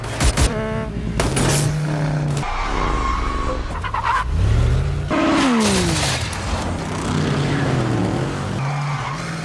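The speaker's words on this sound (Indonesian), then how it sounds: "Brian dikejar oleh Ruiz dan gangster bermotor. Baku tembak di jalanan dimulai." Street chase in an action film with gangsters on motorcycles pursuing a car: loud tire squeals and skids, revving engines and sharp sweeping passes follow one another, with no talk.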